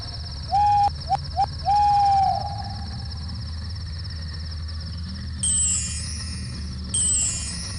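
Owl hooting in a Windows 95-era video game: a few short tonal hoots followed by a longer drawn-out call over a steady electronic hum, with brighter high chirps later.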